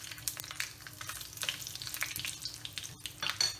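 Dried red chillies and mustard seeds sizzle in hot oil, a close crackling fry with sharp pops and spits scattered throughout.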